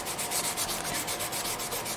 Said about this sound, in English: Still sanding.